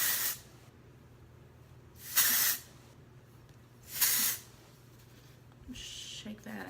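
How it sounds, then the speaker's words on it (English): Three short hissing bursts from an aerosol texture spray can aimed at hair roots, evenly spaced with pauses between, close by and fairly loud against a quiet background. "And then I like to spray it on my roots"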